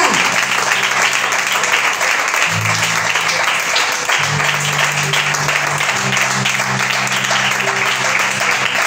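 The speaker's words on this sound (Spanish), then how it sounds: "Hágale fuerte las palmas a Dios" A church congregation claps loudly and continuously, with sustained organ or keyboard chords entering partway through beneath the applause.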